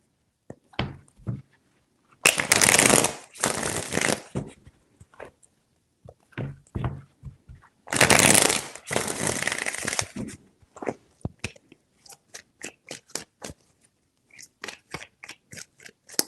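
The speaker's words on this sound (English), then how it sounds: "Three shuffles." Tarot cards are riffle-shuffled twice in loud, rapid bursts, separated by softer taps and shuffling as the deck is handled and squared.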